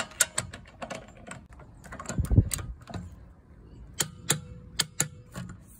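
Brake caliper bolts on the rear wheel of a Mercedes W140 are tightened with a torque wrench to 150 Nm, giving sparse sharp ratchet clicks in short bursts, close and fairly quiet, with a dull metallic knock in the middle.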